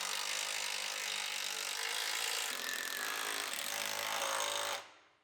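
Power tool work bolting a skid plate back onto the underside of a rolled-over Chevrolet Silverado, a loud continuous buzzing rattle that shifts pitch midway and cuts off abruptly near the end, no voices.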